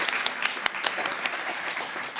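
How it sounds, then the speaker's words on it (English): An audience at an author talk claps together in a brief burst of applause, dense and even throughout, with no talk over it. "These women, yes, we should applaud them."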